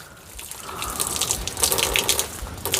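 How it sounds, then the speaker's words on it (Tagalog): Water gushes and splashes steadily in a split forest stream, a continuous close rushing flow that swells slightly louder toward the end, with no voices. "Lumaki na yung tubig."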